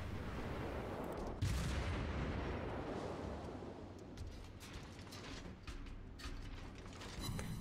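Naval cannon salvos from the USS Omaha cruiser in World of Warships, a dense, continuous rumble of deep booms with one heavier blast early on, and crackling impacts throughout.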